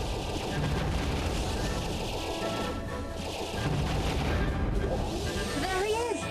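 Robots being shot down in the video game Star Fox Assault, with dense blaster fire and explosions packed over a continuous loud action soundtrack, ending with warbling synthetic effects.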